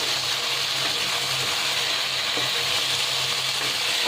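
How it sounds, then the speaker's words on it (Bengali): Arum stolons and dry fish frying on a gas stove over raised heat give a steady, loud sizzle that runs unbroken through the clip, with faint stirring scrapes and no voices. "এবার আমি একটু ভাজা ভাজা করে নেব। গ্যাসটা বাড়িয়ে দিয়েছি"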